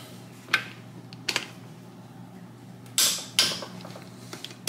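On a 1973 Triumph Spitfire 1500 under restoration, a torque wrench gives several sharp clicks and creaks as bolts reach set torque, close and fairly quiet, spaced irregularly with a louder pair of snaps near the end.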